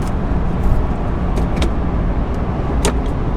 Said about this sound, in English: So cruising at about 65 miles an hour.